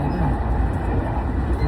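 Rumbling interior noise of a moving train near Shinjuku Station in Japan, a loud steady low roar with no distinct events and no talking.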